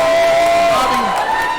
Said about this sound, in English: right there, where you hear the crowd, that's one thing that we absolutely love here in the USPA